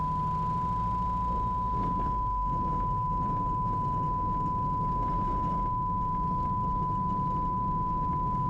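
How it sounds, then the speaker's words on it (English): A light aircraft's angle of attack indicator warning sounds as a continuous steady tone during a slow backcountry landing approach, held loud and unbroken over engine drone and wind noise. "that beeping sound you're hearing is the angle of attack indicator showing that we're very close to the minimum controllable airspeed"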